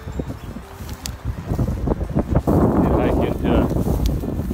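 Strong, relentless wind gusts roar and buffet the microphone outdoors on a hunt, building into a loud sustained rush, while someone speaks briefly over it.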